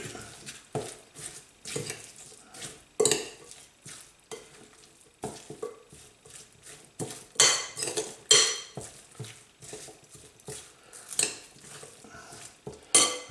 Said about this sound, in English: Just want to mix that through.